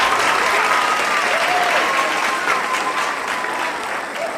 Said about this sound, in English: And I also want to add a big round of applause for all of our members.